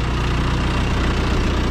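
A tractor engine idles steadily and close by, a loud continuous low rumble with constant vibration and no speech over it.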